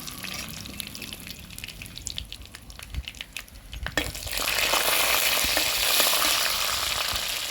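Curry leaves and red chillies drop into hot oil for a Tamil manathakkali keerai kootu; quiet stirring and light crackle give way to a sudden loud, steady sizzle that carries on to the end.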